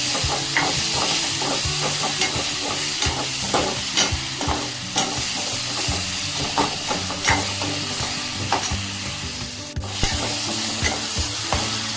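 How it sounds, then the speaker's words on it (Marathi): Chopped tomatoes with salt sizzle and hiss in a hot pan while a spoon stirs and scrapes through them in steady repeated strokes, close and continuous without any speech. "आता हा टोमॅटो विरघळण्यासाठी आपण घालूया थोडंसं मीठ, म्हणजे पटकन टोमॅटो विरघळतो."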